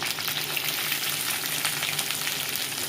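Onion frying in hot oil with masala in a pan, a steady close sizzle and crackle that holds evenly throughout with no voices.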